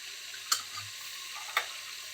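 Lentils, peanuts and coriander seeds dry roasting in a pan without oil, a faint low rustle with two brief sharp scrapes of stirring about a second apart.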